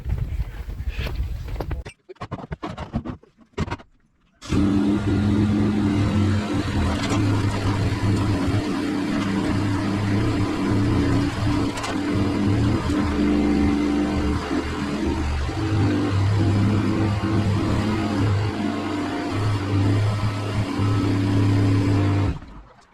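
Steady, loud traffic on a busy road, a continuous drone of passing car engines close by, after a few seconds of broken, quieter noise at the start.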